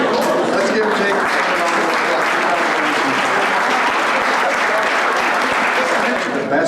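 A round of applause fills the room at the Rice County Agriculture Hall of Fame program, steady and loud from start to finish, with no break.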